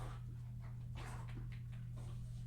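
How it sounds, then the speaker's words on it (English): A dog barks and whimpers in short, muffled yelps somewhere in the background, partly buried under a loud constant electrical hum. "And my dog is going absolutely loopy right now."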